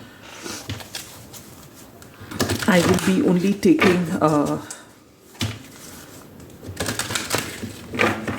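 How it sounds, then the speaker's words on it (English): Tarot cards are shuffled by hand in rapid bursts of riffling, papery flutter that come and go, with someone talking over and between them. "I'm going to shuffle this one first."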